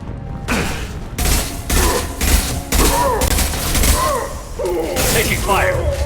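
Bursts of gunfire in the video game Mass Effect 2 during a firefight with a charging Krogan, repeated loud volleys over about six seconds, mixed with voices shouting under the shooting.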